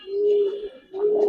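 Giribaz pigeons give two soft, close coos, each a smooth low tone, separated by a short pause.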